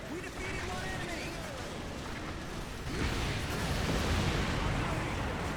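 Tactical bombers sweep through a strafing run in Earth Defense Force 4.1, a dense, continuous roar of rumbling explosions and blasts that swells louder partway through, filling the scene without a break.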